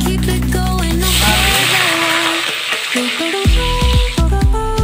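Cumin seeds and bay leaves hit hot oil in a pan, a loud close sizzle and crackle with scraping utensil clatter and stirring knocks throughout.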